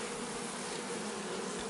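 Honeybees buzz steadily during the transfer of a hive, a dense continuous hum holding even and close for the whole stretch with no voices.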